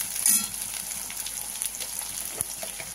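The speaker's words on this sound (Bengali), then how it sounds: "আর অল্প একটু রসুন বাটা দিয়ে দিলাম। দিয়ে এখন এটাকে এইভাবে নিয়ে লাল লাল হবে" Garlic paste frying in a pan as a Bengali fish dish is cooked, giving a steady close sizzle with small crackles and a brief stir-like scrape, no talk.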